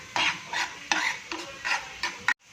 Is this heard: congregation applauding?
no